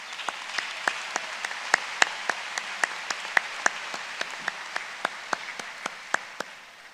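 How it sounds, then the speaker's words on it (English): Graduation ceremony audience gives a moderate round of applause, with a few distinct claps popping out steadily above the dense patter of many hands, indoors at middling distance with no talk over it. "let's give him a round of applause"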